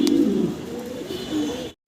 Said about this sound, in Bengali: নর তো খুবই চমৎকার ডাকাডাকি করতেছে